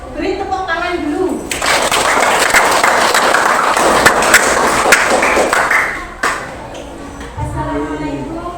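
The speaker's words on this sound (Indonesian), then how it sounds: "Beri tepuk tangan dulu" Students in a classroom break into loud, sustained applause lasting several seconds, with voices talking before and after the clapping.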